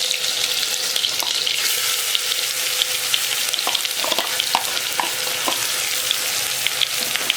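Fresh ginger, garlic and chili paste with carom seeds sizzling in hot oil in a pan for a vegetable dish, a loud continuous frying hiss with occasional light stirring clicks and no talk.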